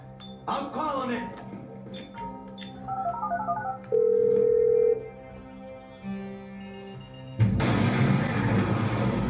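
Phone dialing in the video game GTA V: a rising electronic sweep, quick chirpy keypad beeps, then a steady held tone about a second long, with game sounds and voices around it and a loud burst near the end.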